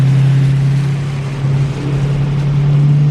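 BMW E92 M3 driven with no bumper or trunk while drifting in the rain, a loud, steady droning exhaust with a strong low hum that dips briefly midway, heard from inside the car with no talk.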